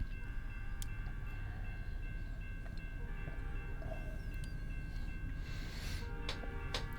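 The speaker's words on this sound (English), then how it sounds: "So it's our second train of the episode" Train passing a road crossing in the truck-driving game American Truck Simulator, a low steady rumble of rolling cars with brief metallic clanks and a faint tonal ring, no speech.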